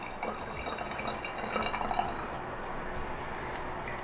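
One lime squeezed by hand for a homemade salad dressing: faint, close drips and soft squelching trickles of juice, quiet and steady throughout.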